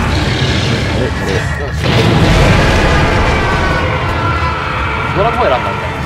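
Cannon fire in Monster Hunter 3G HD during a Jhen Mohran subspecies hunt at a harbor hunting ground: a loud, dense booming burst swelling around the two-second mark amid steady game noise, with players talking over it.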